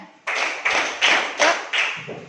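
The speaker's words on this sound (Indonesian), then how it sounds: "Tepuk tunggal. Tepuk ganda. Tepuk ganda tunggal. Tepuk ganda-ganda." Schoolchildren in a classroom doing a clapping routine of single and double claps, five loud broadband bursts spaced about every half second, close and without talk.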